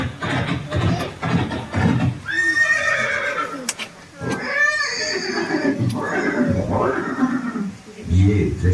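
A horse neighs and whinnies loudly in a museum scene about Chetak, the famed horse of Maharana Pratap near Haldighati, with long whinnies over a dramatic background and a narrator speaking.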